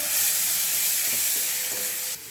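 Chopped green chillies with ginger and garlic paste frying in a pan as they are stirred, a loud steady hiss with a few soft stirring scrapes that cuts off near the end.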